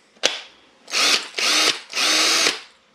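A HART 20-volt cordless 1/2-inch drill/driver makes a click, then three short whirring bursts close up, each spinning up and stopping with brief pauses between.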